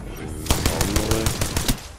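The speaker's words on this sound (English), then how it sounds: "Shots fired at me." Apex Legends gunfire, a rapid burst of automatic shots in quick succession lasting about a second, loud and close.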